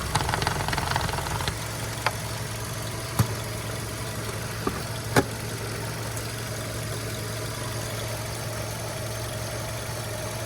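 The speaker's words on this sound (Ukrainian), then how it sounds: "Двигун працює рівненько" A Volkswagen Golf 6 with a 1.6 MPI petrol engine idling under an open hood, a steady even hum with a few faint clicks and taps over it.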